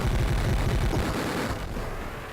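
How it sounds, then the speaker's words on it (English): A loud, sustained rumbling blast from a plutonium crate exploding in the video game Jungle Strike fills the clip, deep and booming, then slowly fades, with no voices present. "that seems about the right size of an explosion for a plutonium crate"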